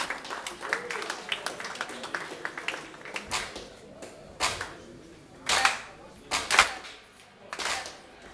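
Sharp hand claps demonstrated by one man at a concert or rehearsal, a run of quick light claps followed by several louder, spaced claps, close by.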